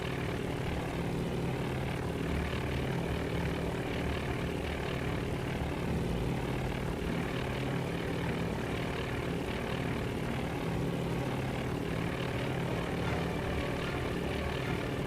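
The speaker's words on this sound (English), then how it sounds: "They're still recovering aircraft." Propeller aircraft engines drone steadily and loudly during carrier recovery operations in the naval strategy game Task Force Admiral, a continuous dense roar with no pauses and no talking.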